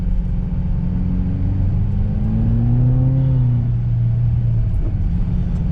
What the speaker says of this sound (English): We are driving a 2023 Subaru WRX premium package.